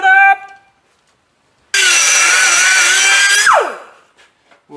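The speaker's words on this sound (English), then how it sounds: "So let me take this die grinder and clean it up." A die grinder cleans weld from the inside of a bolt hole on a 1940 coupe, a loud high whine held for under two seconds that then spins down, after a brief sound at the start.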